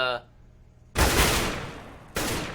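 Rapid bursts of gunfire in CS:GO as two players are taken down at B site: one long loud volley, a brief pause, then a second burst, all close and sharp.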